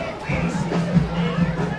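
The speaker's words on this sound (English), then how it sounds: "still most of the crowd still here" Crowd at a high school football game between Clarksdale and West Point, a steady murmur of distant chatter and babble with a low hum underneath and no distinct voices standing out.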